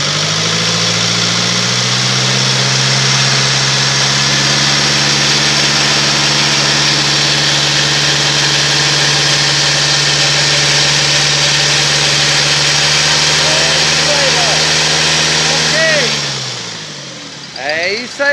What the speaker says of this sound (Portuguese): Dá uma aceleradinha aí, Kemi.